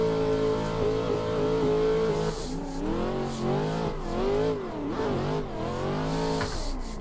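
A KNC Giraffe wagon race car in a racing video game revs and accelerates, its engine note rising and falling through gear changes and throttle modulation, loud and close with a faint tire squeal.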